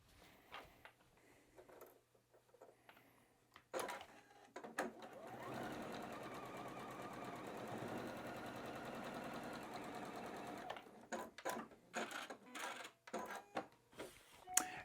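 A sewing machine joins batik quilt block pieces, starting with a few short stitching bursts and then a long, even run. Loose clicks and handling knocks follow as the fabric is adjusted.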